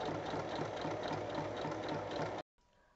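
A sewing machine stitching the side seams of two fabric pieces placed right sides together, running in a fast, steady mechanical rattle up close, then stopping abruptly near the end.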